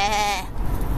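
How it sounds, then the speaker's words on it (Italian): A sheep bleats once, near and clear, its wavering cry lasting under half a second before giving way to a low rumble of background noise. "Le pecore,"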